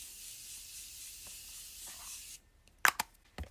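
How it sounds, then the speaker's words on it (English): Makeup setting spray misted onto a face during a soft glam routine: a steady hissing spray lasting about two seconds, then a quiet pause and a few brief, sharp handling clicks close by. "I go ahead and take my setting spray"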